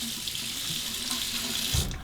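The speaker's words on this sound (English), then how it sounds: "Temper it under the hot water." Hot water runs steadily from a tap as a safety razor is rinsed under it, a constant close hiss and splash with a brief clunk near the end.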